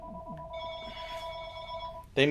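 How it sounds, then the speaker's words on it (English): A telephone rings in a steady repeating electronic tone partway through a recording, followed by a burst of speech. "have the phone ring in the middle of recording"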